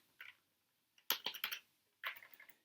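A few short bursts of keystrokes on a computer keyboard while editing in vi, quiet and close with small pauses between clusters of clicks.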